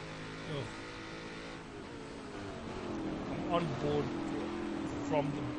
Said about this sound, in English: Oh, the racing V8. Oh, awesome. Nothing sounds better.